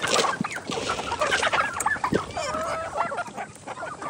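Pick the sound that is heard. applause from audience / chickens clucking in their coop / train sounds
chickens clucking in their coop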